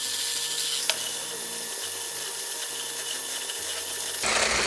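Electric hand mixer beating eggs at medium speed for macaron meringue, a steady continuous whirring drone throughout, with a brief clink near the start and a louder, brighter shift in tone at the end.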